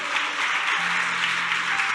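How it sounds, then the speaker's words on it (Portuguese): A church congregation applauds together during a worship service, a steady wash of clapping that fills the space from start to finish, with no talk over it. "aplaudir, Jesus é digno"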